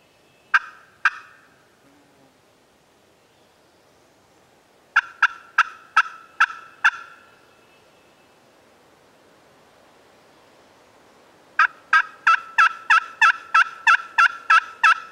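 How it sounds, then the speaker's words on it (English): Wild turkey gobbling outdoors from a distance: two quick calls, then a run of about seven rapid notes, a quiet gap, and a final long series of about twelve gobbles over soft background hiss. "Hopefully he'll keep gobbling."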